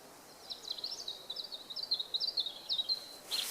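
Birds singing at dawn on Dartmoor, a thin chorus of faint, high chirping phrases repeating steadily a little way off over quiet background hiss.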